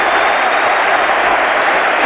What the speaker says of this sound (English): The cheering, the applause, right round the ground